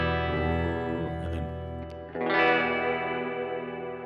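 A full chord rings out on an electric guitar routed through a high-pass filter pedal that strips out the bass, leaving bright, effected tones with a fresh strum midway that sustains and decays.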